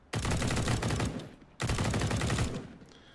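Rapid automatic gunfire from the video game Pantropy comes in two sustained, loud bursts of quick shots separated by a brief pause, with no voices over it.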